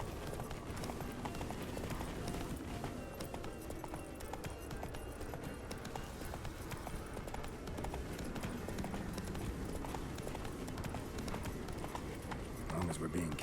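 Roach, Geralt's horse in the Witcher 3: Blood and Wine video game, gallops with steady rapid hoofbeats throughout, set against continuous game ambience and music, with a voice speaking over the hooves.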